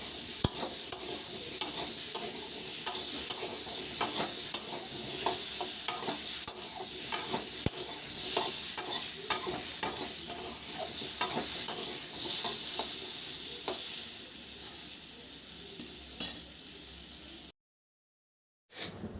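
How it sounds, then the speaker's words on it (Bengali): Potatoes with turmeric and salt sizzle steadily in a pan while a utensil stirs and scrapes in quick repeated strokes, loud and close, before the sound cuts off near the end. "ভালো করে আলুগুলোকে ভালো করে ভেজে নেবে তোমরা"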